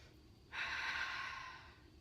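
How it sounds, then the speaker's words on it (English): A single deep breath drawn in during a calm yoga talk, a soft airy rush lasting about a second and a half, close and steady, then tapering off, with no talking over it. "take a deep breath"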